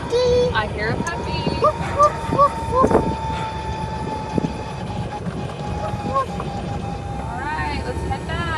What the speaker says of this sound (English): I hear a puppy.